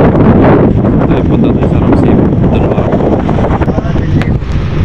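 Strong wind at sea buffets a boat off Romblon among rough waves, a loud continuous roar of wind noise on the microphone with a voice speaking over it.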